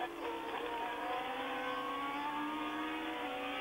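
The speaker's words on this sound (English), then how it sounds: "then they burst up over the crest and into the sight of the grandstand, and it's De Angelis going to be lapped" Formula 1 race cars at the 1979 French Grand Prix at Dijon-Prenois, their high-pitched engines held steady at a continuous loud scream from start to finish, with no voices.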